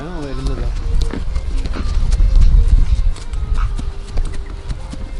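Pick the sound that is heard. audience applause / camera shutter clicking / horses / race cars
horses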